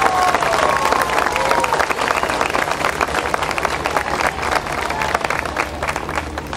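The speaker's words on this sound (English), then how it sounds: "we gotta give them a hand of applause right now" A crowd at an outdoor Memorial Day ceremony in West New York applauds, a dense, loud, continuous wash of clapping that holds steady throughout with faint voices mixed in.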